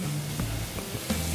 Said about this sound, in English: Oh yes, nice sizzle.